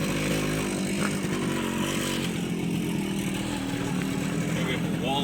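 A dirt bike engine runs hard as the rider pulls in, a steady, loud droning roar throughout with people talking over it.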